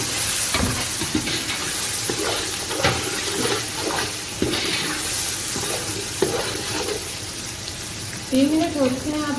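Chopped tomatoes sizzle and hiss in a pan while a spoon stirs them in scraping strokes, the frying steady throughout, with a brief voice near the end.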